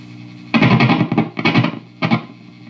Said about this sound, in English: I have the volume cranked, and I can hear the tremolo.